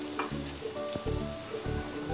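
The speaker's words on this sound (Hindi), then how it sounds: "तेल हमारा गर्म हो चुका है, अब इसके अंदर जीरा डाल देंगे" Cumin seeds dropped into hot mustard oil for a cucumber sabzi, a close, steady crackling sizzle with bright popping that carries on without a break and no voices.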